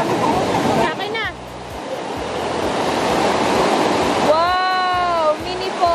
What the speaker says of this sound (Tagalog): Mini falls!